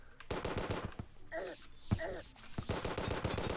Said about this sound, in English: Oh, it actually is not a gun. It's like a harpoon, kind of.